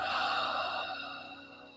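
One long, soft exhale through the nose, steady and close, slowly fading as the breath runs out during a quiet guided meditation.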